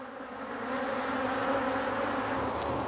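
Honey bees in a nucleus colony in North Wales hum in a steady, close buzz that holds evenly for a few seconds without a break.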